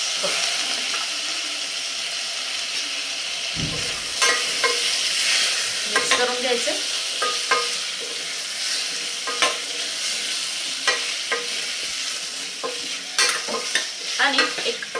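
Chopped potatoes sauté in oil and spices in a pan over medium heat, giving a steady close sizzle broken by repeated scraping and clattering stirs of the spatula.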